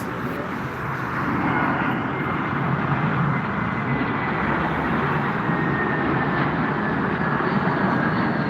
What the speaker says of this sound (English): Lufthansa Airlines Airbus A321 from Munich has arrived.